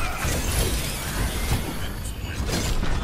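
Reinhardt's Earthshatter hammer slam in Overwatch, a loud, dense crashing rumble that fills the moment with sustained shattering noise over busy match sound.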